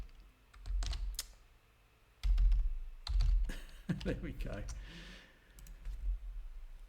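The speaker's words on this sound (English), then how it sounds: "Spam the keyboard." Rapid bursts of clacking keystrokes on a computer keyboard come in several close, loud clusters, with someone speaking briefly between them.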